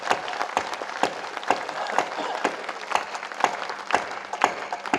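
Audience clapping at a Hindi patriotic poetry recital, a steady crowd applause with sharp, dense hand claps continuing throughout, moderately close and unaccompanied by speech.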